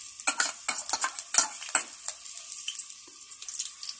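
Ginger and garlic fry in a generous amount of oil for a shahi chicken korma, giving crackling sizzles punctuated by repeated sharp metal spoon scrapes and clinks against the pot, close and lively.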